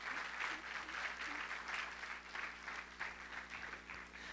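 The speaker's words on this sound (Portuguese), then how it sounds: "Dê uma salva de palmas ao Senhor," A church congregation claps during a sermon, a steady, fairly faint round of many hands sounding from some distance with a low hum underneath.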